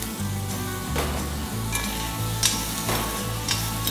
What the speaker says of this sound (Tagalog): Susunod, lalagyan natin yung bacon. Magaling yung bacon kasi ito na nagmamantika eh.